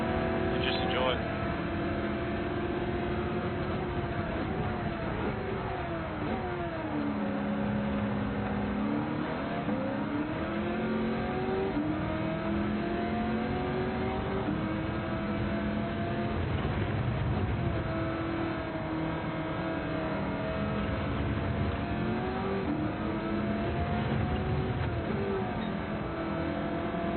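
A Camaro V8 Supercar engine on a racing lap, roaring continuously with rising and falling revs through gear changes, loud and close throughout, with talk over it.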